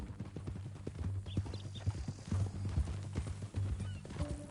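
Horse hooves clip-clopping at a steady walking pace, close by, in the video game Red Dead Redemption 2, with a low rumble of ambience underneath and no talking.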